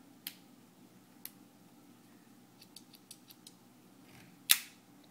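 Scissors on a Swiss Army Knife being handled, giving a few faint metallic clicks and ticks before one sharp, close snip near the end, over a quiet steady room hum.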